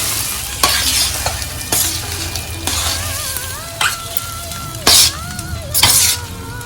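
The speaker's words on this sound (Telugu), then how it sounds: "పోపు మూపడి మొత్తం అన్నంలోకి మొత్తం కలిసిపోయేలాగా కలిపేసుకోవాలండి" A spoon scrapes and stirs tempering through cooked rice with spinach in a hot pan, with a soft sizzle underneath and several louder scraping strokes at uneven intervals.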